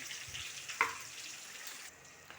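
Onion, green chili and chana dal fry quietly in a pan, a soft high sizzle broken by a brief utensil clink early on, with no talking.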